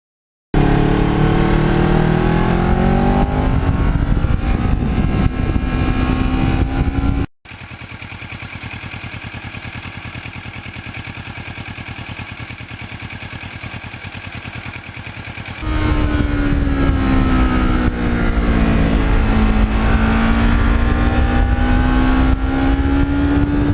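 A 2009 Kawasaki Ninja 650R (EX650R) special edition, an uneven-firing parallel twin, runs loud and close, revving up and down with rising and falling pitch, settling to a steadier idle in the middle before revving again; no talk.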